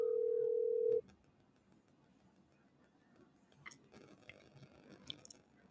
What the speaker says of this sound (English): I'm gonna make a quick phone call.